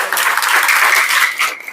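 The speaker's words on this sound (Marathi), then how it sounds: "टाळ्या वाजवा एकदा." An audience at a political campaign gathering claps on request, a brief, full burst of applause that tapers off within a couple of seconds.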